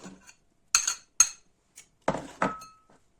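Chopped bell pepper, parsley and carrot go into a cooking pot for rassolnik soup, making several separate clinks and knocks, each close and crisp, with short silences between.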